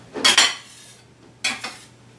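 A stainless steel bench scraper is handled on a kitchen counter, giving two short bursts of bright metallic scraping and clatter about a second apart, close and loud, with no one speaking.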